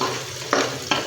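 Chopped onions frying in a pan, a close, steady sizzle with two brief scraping stirs near the end of a very short stretch.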